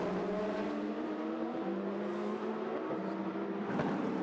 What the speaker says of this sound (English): In fact, there is the white car going through.